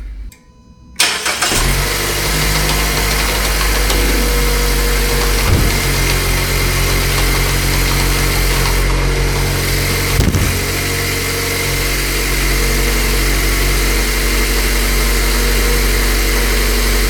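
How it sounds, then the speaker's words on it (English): A 2012 Mazda 3 engine starts after a brief quiet moment and then settles into a steady, loud, close idle with a constant low hum, no talk. "I'm gonna fire it up and take a peek underneath, make sure nothing's leaking."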